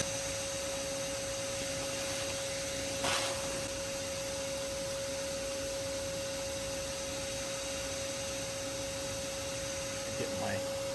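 A steady, droning vacuum cleaner runs throughout, its whine holding an even pitch while sucking out a yellow jacket nest, with a couple of faint knocks and scrapes.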